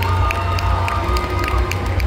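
Convention audience cheering and clapping for cosplay performers on stage, a loud dense crowd with sharp individual claps poking through a continuous roar.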